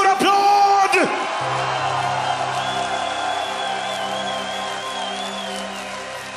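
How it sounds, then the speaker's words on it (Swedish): A large rock concert crowd in Falun roars with whoops and cheers, loud and sustained, while a sung note rises and holds above the din. "En stor applåd!"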